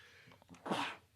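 A single sharp sneeze from one person, close and fairly loud, preceded by a short intake of breath and heard in a podcast setting with no speech over it.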